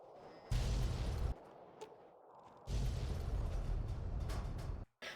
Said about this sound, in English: I destroyed them both by targeting their fuel reserves. Explosions everywhere.